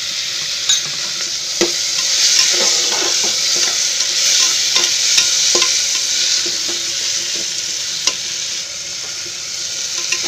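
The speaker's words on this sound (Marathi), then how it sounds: "1 मिनिट जरा शिजू दे टोमॅटो" Tomatoes sizzle and fry in a pan while being stirred for a sprouted horse gram curry, a steady close hiss with scattered sharp clicks and scrapes of the spoon throughout.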